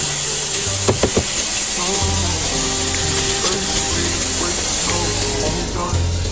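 Steady, loud frying sizzle from food in a pan while dinner cooks at home, continuous throughout with a few clatters and a low hum underneath.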